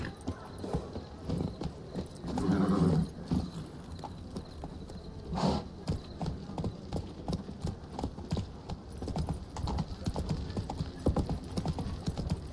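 Horse hooves clip-clop steadily in The Witcher video game, a continuous even trot close by with a brief louder patch, faint game sounds underneath.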